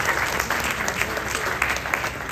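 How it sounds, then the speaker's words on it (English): An outdoor crowd at a Ramayan gathering in a park applauds, dense steady clapping throughout, fairly loud and close, with no voices standing out. "Please give a nice round of applause."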